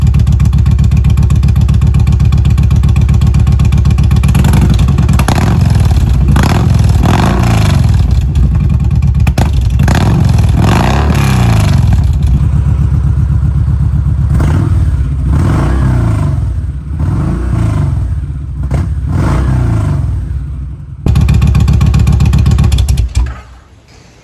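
A motorcycle with an aftermarket exhaust is revved hard over a rumbling idle, with about eight loud, close throttle bursts rising and falling in quick succession. No one speaks.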